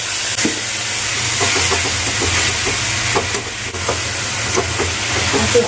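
Loud, steady hissing of hot oil as a splash of water hits ground spices frying for a fish egg curry, with faint clinks of a utensil scattered through it.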